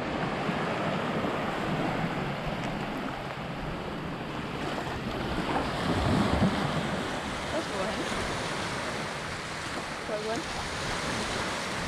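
Ocean surf rolls steadily onto Siesta Key Beach at sunrise, a continuous broad wash of waves mixed with wind rumble on the microphone, and no clear talk.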